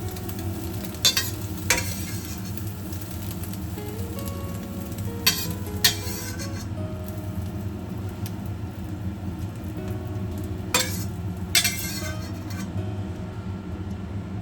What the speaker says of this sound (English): Cut into small pieces with a spatula. Fry until golden.